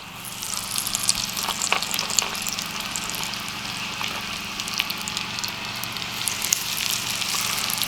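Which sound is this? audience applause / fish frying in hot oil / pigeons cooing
fish frying in hot oil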